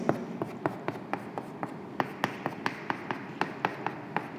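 Chalk or marker tapping and scratching on a classroom board while a chemical formula is written, a steady run of short, sharp strokes close by with no talking.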